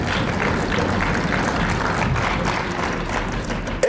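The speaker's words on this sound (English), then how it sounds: "Can we properly clap louder than what we are doing?" An audience in a parliamentary session hall claps together, a steady wash of applause at moderate loudness throughout, with no speech over it.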